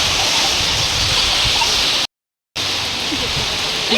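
Heavy rain pours down outdoors during a temple visit, a dense, loud and continuous roar that breaks off briefly into silence and then resumes.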